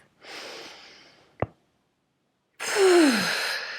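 A deep breath taken during a tapping exercise: a soft breathy inhale, a brief sharp sniff, a pause, then a longer audible exhale with a sigh-like fall, close and alone.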